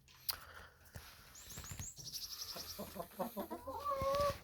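Chickens clucking close by while eating boiled potato peelings, a run of short repeated clucks rising into a busier flurry of calls near the end.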